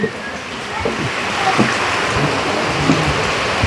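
Heavy rain pours down steadily close by as a continuous wash of noise with occasional distant rumbling, while a man calls out in passing over the downpour.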